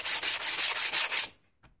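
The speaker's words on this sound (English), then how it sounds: "then I'm going to sand it" Sealed wood being sanded by hand for a holiday sign, six quick rhythmic back-and-forth strokes, close and crisp, then a faint tap after a pause.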